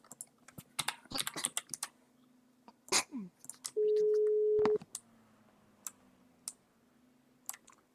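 A phone dialed in a video game gives a steady ring tone of about one second amid scattered sharp keyboard clicks and taps, fairly quiet overall.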